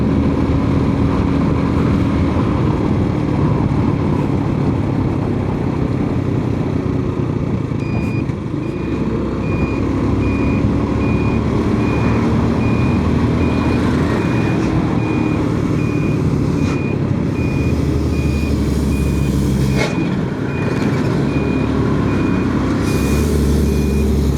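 Lorries at a heavily secured rock site in western Uganda rumble with engines idling, while a steady reversing beep repeats over the din and an air brake hisses briefly, with no voices.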